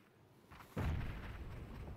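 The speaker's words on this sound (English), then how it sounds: "He's going to toss the nade and back away" A grenade goes off in PUBG during an esports match, a sudden deep boom with a rumbling tail that dies away over about a second, fairly distant and alone.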